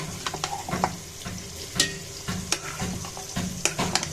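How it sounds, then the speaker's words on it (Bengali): Mutton fries in a pan with onions and green chilies, a steady sizzle under repeated scraping stirs and clinks of a spatula, close and moderately loud, with no talking. "এবার আমি মাংস দিয়ে দেবো।"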